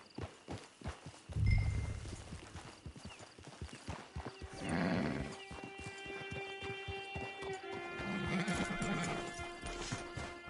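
A horse whinnies loudly and its hooves clop in a steady walking rhythm near a camp, the neighs rising over the footfalls.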